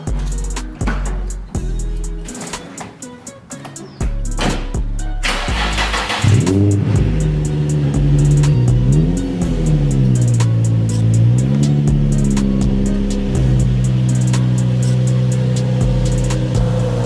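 A Nissan 350Z cold starts with a cranking burst and catch, then settles into a loud, close idle broken by several sharp revs that rise and fall before holding a steady elevated drone.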